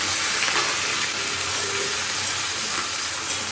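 Onions sizzling steadily in hot oil in a pan while ghugni is cooked, a loud, continuous hiss and crackle with no talking.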